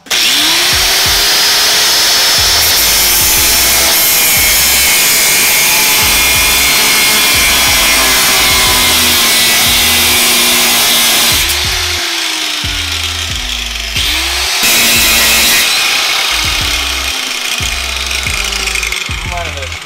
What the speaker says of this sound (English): Hit it with the full chisel now.